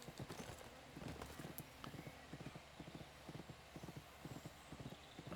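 Rhythmic horse hooves clip-clopping at a steady trot in The Unicorn Princess game, evenly spaced thuds continuing throughout at a moderate, fairly quiet level.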